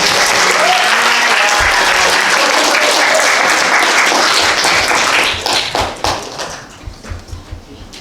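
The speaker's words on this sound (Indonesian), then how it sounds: "Tepuk tangan dong buat" Classroom audience at a student presentation applauds strongly, then the clapping thins out into scattered individual claps before fading.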